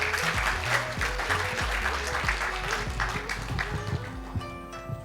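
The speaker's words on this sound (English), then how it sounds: "Ambassador Domichi, a warm round of applause for him." Audience at a management centre launch applauds warmly to welcome an ambassador, continuous crowd clapping with background music running beneath it, tapering slightly toward the close.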